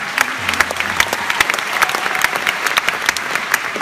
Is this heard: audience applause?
yes